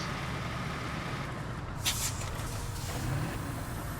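Heavy trucks driving in a road-building video game, a steady low engine rumble with a brief hissing burst midway, no talk.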